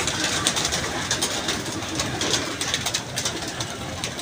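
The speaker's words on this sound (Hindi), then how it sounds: "नीचे तो आए कबूतर" Pigeons coo softly amid a steady wash of broadband outdoor noise, with faint repeated bird calls and no voices.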